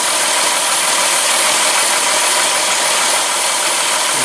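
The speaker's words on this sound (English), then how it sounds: "but this is a vacuum leak." A loud, steady hiss of air from a car engine vacuum leak in a hose sounds close up over the running engine, continuous and unbroken throughout.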